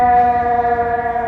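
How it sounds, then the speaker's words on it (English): A steady, sustained siren tone on Michigan Avenue in Chicago, loud and unbroken for a moment with no talking. "We always got some sirens there."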